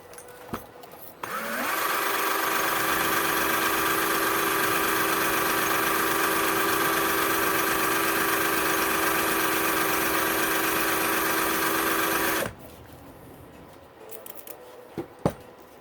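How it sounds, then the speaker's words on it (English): Sandpaper or a small power tool working the dome of a Yamaha YZ250 two-stroke cylinder head with 60 grit gives a loud, steady, close grinding whir lasting about eleven seconds, with quiet handling noises before and after. "So I'll take some 60 grit here, and I'll start working on the dome."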